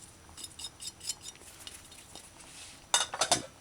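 A utensil scrapes and clinks against a pan while chicken, mushroom and coconut stew is stirred, with soft intermittent strokes followed by a louder cluster of metallic scraping near the end.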